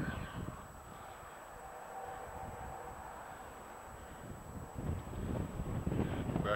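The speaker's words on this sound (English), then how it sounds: "Very breezy up here, so I'm trying to shield the wind a little bit." Steady wind buffets the microphone on top of Monk Mound at Cahokia Mounds, a broad low rush that swells louder near the end, with no voices.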